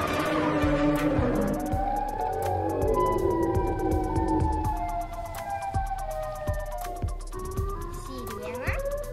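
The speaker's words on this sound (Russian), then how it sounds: "Сирена?" A wailing siren sweeps up and down in long gliding tones, loud and near, mixed with sharp thumps and children's voices talking over it.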